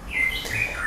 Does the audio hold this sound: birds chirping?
yes